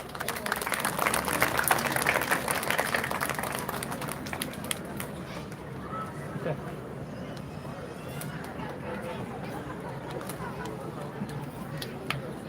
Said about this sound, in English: Audience, please applaud.